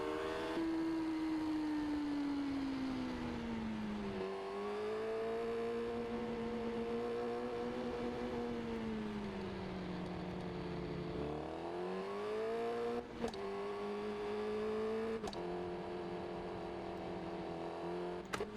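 A car drives in first gear, its engine droning steadily and rising and falling in pitch as it pulls along, with a couple of sharp knocks near the end; no one talks.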